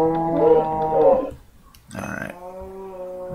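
Cow mooing in Minecraft, two close, loud low moos separated by a short pause, with no other sound around them.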